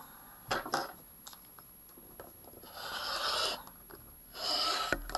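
A rotary cutter slices through layered quilting fat quarters into 4-inch strips for a charity quilt. Two soft, raspy swipes with a few light clicks and taps between them sound close and quiet, with no talking.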